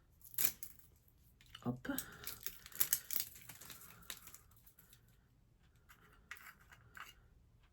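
An eyeshadow package is opened by hand, with close, crisp crinkling of wrapping, sharp snaps and tearing scrapes in bursts that taper into lighter rustles, and a brief exclamation from a voice.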